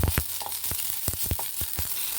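Gotu kola (vallarai) leaves with pepper and curry leaves crackle and sizzle in hot oil in a pan, with irregular sharp pops and scrapes of stirring over a steady hiss.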